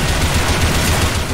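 Rapid gunfire in the Team Fortress 2 zombie escape game, a dense, loud burst of overlapping shots filling the brief moment without pause.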